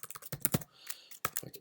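Rapid clicking of keys on a computer keyboard while coding a web app, in uneven bursts of close, crisp keystrokes separated by short pauses.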